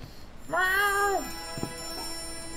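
A cat gives a single clear meow, rising then falling over about half a second, close and fairly loud, followed by quiet background noise and a faint thump.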